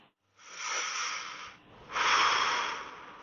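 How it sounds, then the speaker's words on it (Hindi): Two loud, heavy breaths close by, a long hissing inhale followed by a stronger exhale, with silence around them. "मेरे पीछे किसी के सांस लेने की जोर जोर से आवाज आ रही थी"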